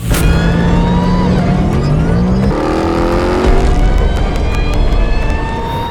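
A Dodge Ram TRX engine revs hard under acceleration, a loud, close roar that climbs in pitch, drops at a gear change, then climbs again, with no talk over it.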